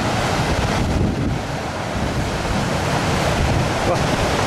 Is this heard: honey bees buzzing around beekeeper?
no